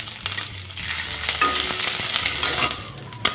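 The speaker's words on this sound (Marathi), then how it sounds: "मिरच्या परतवून घेऊ" Green chillies and curry leaves crackling in hot oil for a tempering that already holds golden garlic, a loud close sizzle with sharp pops and a spatter near the end.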